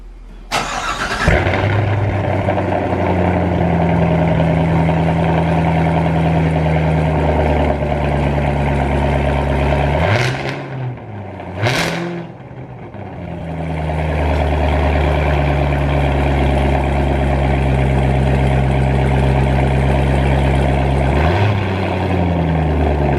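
A 2019 Corvette ZR1 fitted with a Borla X-pipe roars on a dyno, holding a loud, rising rev for several seconds, dropping off with sharp blips and pops, then climbing again into a sustained howl.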